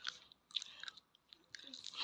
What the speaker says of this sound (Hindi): ये आलमंड खाने के लिए पता नहीं कितना टाइम लगाएगी,